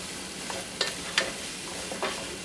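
Butternut squash sizzles softly in a hot pan over medium heat, a steady low frying hiss broken by a few brief stirring scrapes, with no talking.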